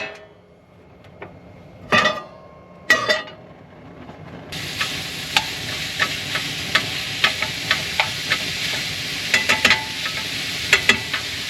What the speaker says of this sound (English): We're gonna start it off by frying up some pork sausage.